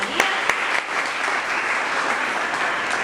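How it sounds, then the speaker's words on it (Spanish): A church congregation claps steadily for a visiting church, dense and continuous throughout, with a couple of sharper claps standing out near the start. "un aplauso para la iglesia de Santa María"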